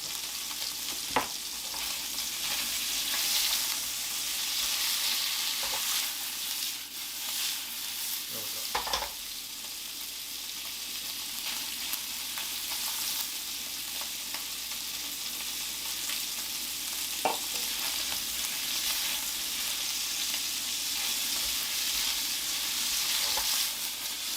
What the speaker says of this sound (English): You can put a pretty dark sear on this because this is a recipe of bold flavors,